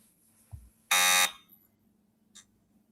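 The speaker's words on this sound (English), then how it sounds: "Let's try the buzzers real quick." A game show buzzer is tested with one loud, harsh electronic buzz lasting about half a second, followed by a faint short tone and near silence.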